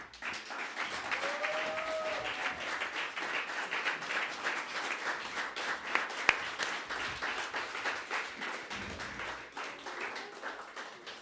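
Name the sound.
audience applause for speaker Junior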